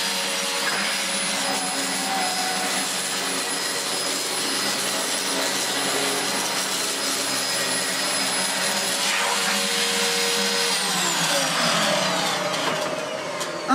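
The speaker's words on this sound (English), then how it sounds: "let's give the Dyson a go first as the outgoing of this month" A Dyson DC04 vacuum cleaner runs with a loud, steady motor whine and airy rush that holds constant for over ten seconds, pitch shifting slightly toward the end as it is moved, with no talking.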